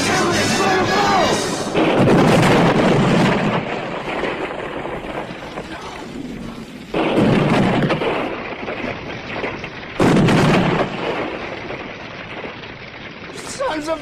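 A film scene of a motorhome blown up by a detonated explosion: heavy booming blasts and deep rumbles recur in bursts, loud and near, with shouting voices mixed among them.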